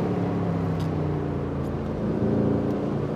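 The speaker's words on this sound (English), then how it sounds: "That engine makes a cracking noise." A deep, steady engine rumble from a 4-litre AMG V8 sports car, idling or cruising with a low throbbing tone and faint wind noise, no voices.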